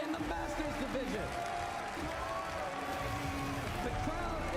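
Crowd at the Pokémon World Championships applauding and cheering on their feet, a dense continuous roar of clapping under a commentator talking over it throughout.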